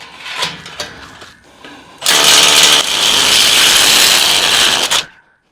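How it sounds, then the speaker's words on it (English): A rotary hammer drilling with a half-inch bit while setting anchors in a carport being turned into a shop: a few short bursts, then a loud, sustained, rattling hammering run lasting about three seconds before it abruptly stops. "Got the roto hammer. Okay. We'll do this half-inch one."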